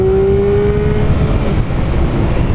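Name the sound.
motorcycle engine revving while riding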